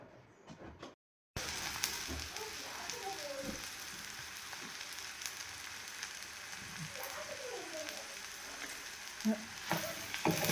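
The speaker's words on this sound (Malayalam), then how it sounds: "മുരിങ്ങയ്ക്കായും കൊച്ചുള്ളി കിഴങ്ങും കൂടി ഇതൊന്ന് എണ്ണയിലൊന്ന് വഴറ്റുക." Drumsticks, shallots and potatoes sizzle and crackle in hot coconut oil in a pan, a steady frying hiss close up with occasional stirring scrapes.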